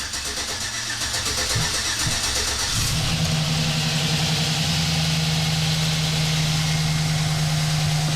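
A 2008 Chevy Silverado 1500 with a freshly swapped engine cranks briefly, catches and settles into a steady, loud idle that holds close by without any talk.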